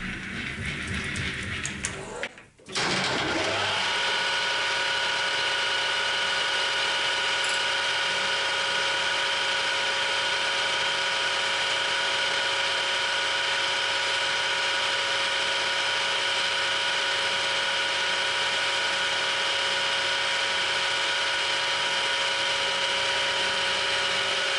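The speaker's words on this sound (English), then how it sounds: "So what we're going to do now is just put a lead on the front" A Harrison M300 lathe machining a chamfer, a steady motor hum with a faint continuous whine that runs on unbroken after a brief pause near the start, close and moderately quiet.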